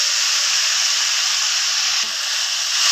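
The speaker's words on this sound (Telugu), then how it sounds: "ఉల్లిపాయలు ఎర్రగా వేగిన తర్వాత వేయించుకున్న దొండకాయ వేస్తున్నాను." Fried ivy gourd tossed into browned onions in a hot pan sizzles with a steady, loud hiss, broken by a soft thud partway through as the pieces go in.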